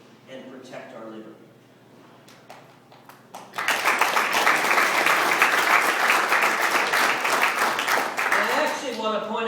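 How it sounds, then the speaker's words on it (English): Audience applause at a political speech by a former Texas Solicitor General, starting after a few seconds of quieter sound and then swelling into a loud, sustained burst of clapping across the hall. "I actually want to point out the young man who led the applause on that."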